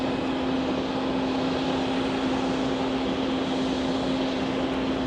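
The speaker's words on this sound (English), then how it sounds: "Air India on taxiway Kilo, about to line up on 4 left." An Air India Boeing 777-300ER taxiing at JFK airport, a loud, steady jet engine roar with a constant hum, distant and unbroken throughout.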